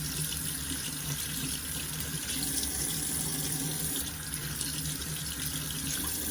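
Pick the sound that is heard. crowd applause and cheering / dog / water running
water running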